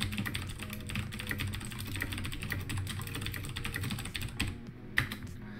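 Rapid, steady keystrokes on a computer keyboard while chatting on an online service, close and continuous with no voices.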